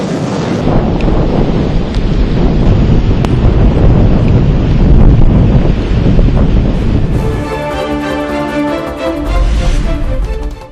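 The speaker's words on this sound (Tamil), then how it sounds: "வேதாரண்யம் சுற்றுவட்டார பகுதிகளில் பலத்த சூறை காற்று." Strong gale wind buffets the coast near Vedaranyam, a loud, continuous roar of wind over crashing surf, gusting throughout with no voices.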